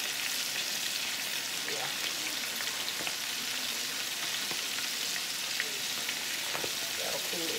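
Chicken pieces frying in hot grease give off a steady, dense sizzle and crackle that fills the whole stretch at an even level, with a brief spoken word underneath.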